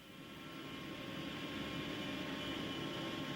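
A large mining machine at Antelope Valley Station rotates slowly at about 4 RPM, giving a steady, loud mechanical roar and hum that holds unbroken throughout with no voices.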